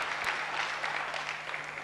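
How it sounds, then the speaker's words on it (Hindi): Audience applause during a memory-power lecture, a brief, steady burst of clapping at moderate level with a faint hum beneath. "तालियां."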